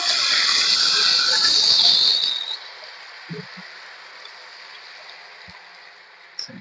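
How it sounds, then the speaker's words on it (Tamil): Raw banana slices drop into hot oil in a kadai, setting off a loud bright hiss and sizzle for about two seconds that drops to a faint steady simmer with a few soft knocks. "ஒரு கடாய காய வச்சு எண்ணெய் சேர்த்துட்டேன் அது காஞ்சிருச்சு இப்போ எண்ணெயில சேர்த்துக்கலாம்"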